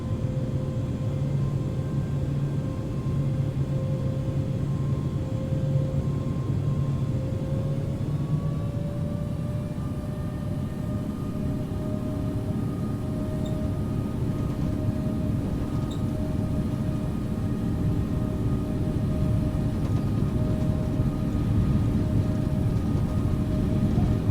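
Boeing 777-300ER jet engines spooling up for takeoff from runway 2 center at Singapore Changi in the Infinite Flight simulator, a steady loud roar whose whine rises in pitch partway through and holds to the end, with no voices.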